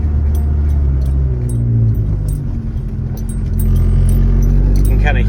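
Chevrolet Sonic engine with a new OTTP transmission mount, a steady low droning vibration and hum filling the cabin, moderately loud and continuous, with slight rise toward the end and light background chatter.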